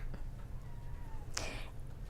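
A cat meows once, clearly and fairly close, in an animal shelter over a steady low hum of background noise.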